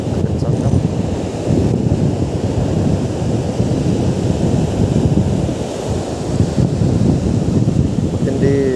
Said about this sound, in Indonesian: Mungkin di kamera akan terdengar sangat berisik karena hembusan anginnya